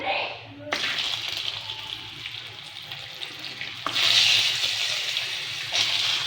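Double-yolk eggs frying in hot oil seasoned with salt and turmeric: a steady, close hiss and crackle that jumps after a pan clatter and swells louder again near the end.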